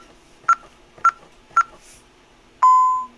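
Three short, evenly spaced keypad beeps while entering a code, then one longer, steady confirmation tone from an Ademco Vista alarm panel.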